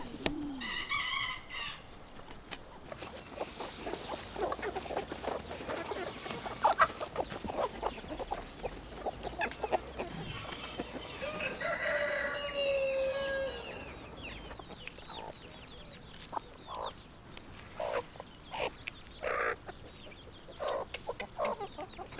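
Chickens and chicks cluck and squawk close by outdoors on a farm, with scattered calls and a crowing rooster now and then over a quiet background.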